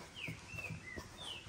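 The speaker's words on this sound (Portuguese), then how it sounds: "Olha os passarinhos." Small birds chirp near a home kitchen in Minas Gerais: a few thin, whistled chirps that slide downward, faint and spaced out over soft handling thumps.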